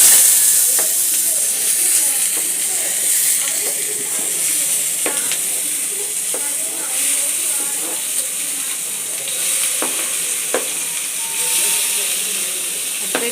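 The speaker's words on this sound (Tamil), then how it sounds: "முதல்ல வெங்காயம் போட்டுக்கலாம்." Onions hit hot oil for paneer butter masala and give a loud, close, hissing sizzle. The sizzle holds steady throughout, with a few faint taps of a spoon against the pan.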